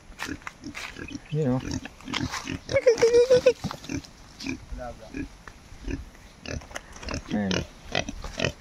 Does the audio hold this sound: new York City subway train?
no